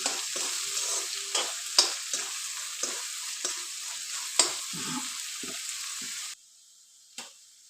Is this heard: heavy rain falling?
no